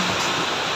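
Running water pours steadily from a tap while leafy vegetables are washed, a brief close, dense rushing splash with no pauses.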